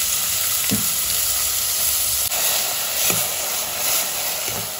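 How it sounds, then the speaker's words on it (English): Onion frying in about two tablespoons of oil in a pan, a steady close sizzle and hiss running throughout, with a few soft stirring scrapes breaking through. "Let's fry the onion till it is nice and golden."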